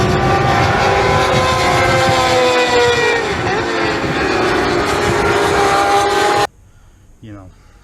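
A 600 cc Freshman-class racing motorcycle roars at full throttle on board during a Thundersport race at Donington, loud and continuous with shifting engine pitch, then cuts off abruptly, leaving quiet background.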